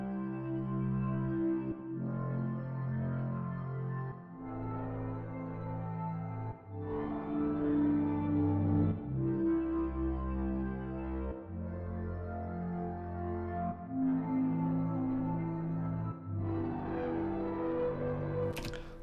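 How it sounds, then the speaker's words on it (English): A custom Serum synth patch for a hyperpop remix plays sustained chords with a rich harmonic stack, changing every couple of seconds and playing loud and steady without a voice. "The main patch I created myself in Serum"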